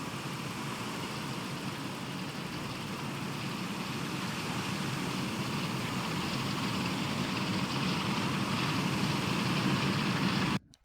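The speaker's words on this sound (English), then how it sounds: "I hear a Class 47." A Class 47 diesel locomotive's engine drones steadily, a continuous low mechanical hum heard at moderate distance and fairly quiet, holding level for about ten seconds before cutting off abruptly.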